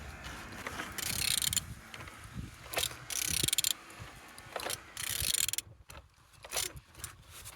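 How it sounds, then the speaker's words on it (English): A Z18XER car engine being turned over, with irregular mechanical ratcheting and clicking in short bursts, close by and fairly faint, with no voices. "Turning your engine"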